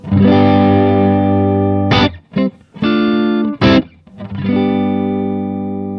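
Distorted electric guitar through an Axe-FX III direct cabinet sound rings out sustained chords with a few choppy muted strums between, loud and close with a direct, dry tone.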